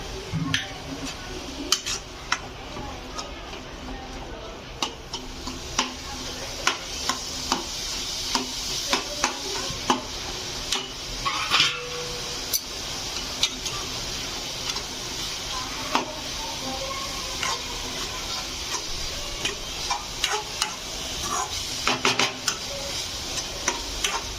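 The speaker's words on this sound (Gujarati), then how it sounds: "મસાલાને હવે ધીમા ગેસે શેકાવા દેશું." Masala spice mix for Punjabi samosa filling roasting on a low flame, a soft steady sizzle with frequent small ticks and scrapes of stirring throughout.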